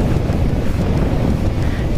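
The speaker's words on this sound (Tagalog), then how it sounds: "Lakas ng hangin, sobrang lakas." Strong wind buffets the microphone in a constant low roar, loud and unbroken, rushing past while riding a 2024 Yamaha XMAX scooter at speed.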